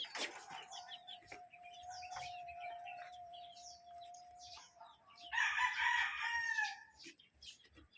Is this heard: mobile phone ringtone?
no